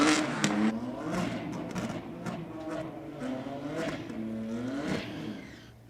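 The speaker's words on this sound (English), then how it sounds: "Are we just rolling the beamer back in for a little bit more of a burnout?" BMW M3 on standard road tyres at a drag strip revs repeatedly for a burnout, rising and falling engine sweeps in several bursts, moderately distant under crowd ambience.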